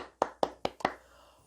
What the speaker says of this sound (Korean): 우리 하나님께 영광의 박수 한번 드릴까요?